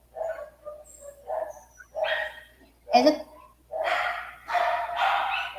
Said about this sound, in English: Dog is barking a lot.